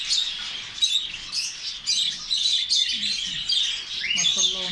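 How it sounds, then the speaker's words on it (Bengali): Many male canaries in a crowded bird shop chirp and trill continuously in bright overlapping song, close and lively, with faint background noise beneath. "ক্যানারি সবগুলা মেল। দেখেন উপরে জোড়া আছে অনেকগুলো, দেখেন সব ক্যানারি"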